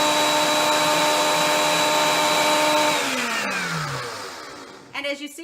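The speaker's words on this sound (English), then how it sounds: "hold on to your ears because really quick, we're going to grind these seeds" A blender whirs loudly and steadily while grinding chia seeds, its motor pitch dropping as it spins down and stops near the end, followed by a brief rustle.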